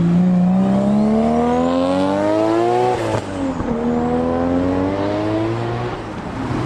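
A Nissan R34 GTR at a car show roars loudly nearby, its engine note rising steadily over about three seconds, dipping briefly, then climbing again as it revs or pulls past.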